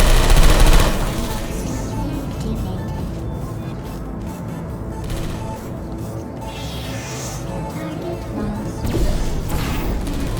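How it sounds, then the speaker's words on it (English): Automated sentry turrets firing in Portal Stories: Mel, sustained rapid gunfire with dense bursts and impacts, loud and continuous, swelling again near the end. "It's what's causing the turret to shoot at humans."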